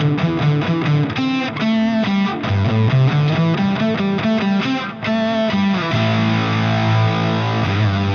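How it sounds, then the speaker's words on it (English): An electric guitar plays through an octave distortion on a Fractal Audio FM9 set for southern rock, giving a thick, buzzy lead line of quick notes that settles into a sustained ringing chord at the end. "the only other thing I'm running is this octave distortion"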